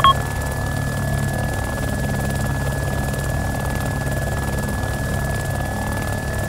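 A steady Little Bird helicopter rotor drone in the video game Arma 2: Operation Arrowhead hums continuously with a thin high electronic tone over it, with no voices.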